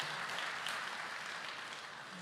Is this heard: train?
no